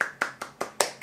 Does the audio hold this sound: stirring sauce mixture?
no